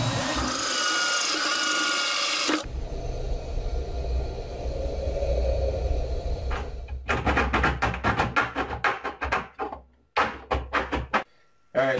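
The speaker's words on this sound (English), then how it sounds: "let's drill this hole" A power tool whirs loudly for a few seconds, then rough grinding and scraping, followed by a burst of short rapid bursts and clattering close by.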